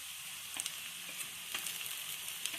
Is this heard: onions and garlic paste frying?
yes